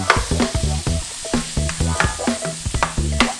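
Spinach and onion sizzling and being stirred in a hot cast iron pan, with loud, rapid, rhythmic scraping strokes over a constant frying hiss.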